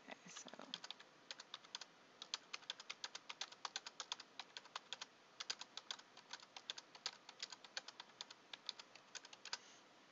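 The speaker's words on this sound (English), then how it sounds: "So I'm going to type these values in here." Values are typed on a computer keyboard, quiet close key clicks coming in quick irregular bursts throughout with brief pauses between runs.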